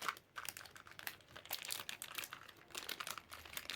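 Gift packaging being unwrapped at home, with continuous crinkling and rustling of wrapping material in close, busy bursts throughout.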